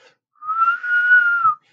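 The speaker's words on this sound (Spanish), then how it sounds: "he oído claramente un silbido bajo, a eso de las 3 de la madrugada" A single sustained whistle, steady and fairly pure in tone, holding one pitch for just over a second in an otherwise quiet space.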